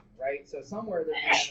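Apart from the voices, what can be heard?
sneeze in classroom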